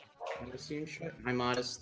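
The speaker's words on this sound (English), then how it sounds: "Sorry for my dog's barking, nothing I can really do about it." A pet dog barks and yips in short bursts close to the microphone while someone talks over it, the barks partly tangled with his voice.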